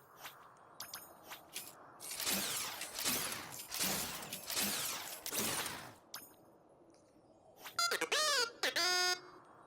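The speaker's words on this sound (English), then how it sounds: "the beeping voices that just makes beep noises instead of actual words" A robot character in the Skylanders Imaginators video game speaks in beeps instead of words: a burst of chirpy, bright electronic bleeps arrives near the end, after a stretch of loud noisy bursts from the game.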